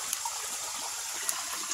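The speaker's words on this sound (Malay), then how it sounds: "Punya spot sini ada sungai ini friend." A shallow, clear jungle river flows steadily with a soft, continuous rushing and trickling, faint and even, with no voices.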